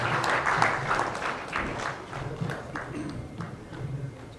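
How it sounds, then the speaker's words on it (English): An audience applauds panelists at a World Refugee Day high-level dialogue, a steady, fairly loud wash of clapping that carries through the clip with slight swells and a low room rumble. "A final round of applause, please, to our great panelists."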